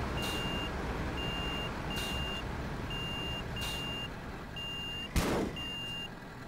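A garbage truck in the video game Cityconomy reverses, its back-up alarm giving evenly spaced high beeps over a low idling engine, with a short hiss of air brakes near the end.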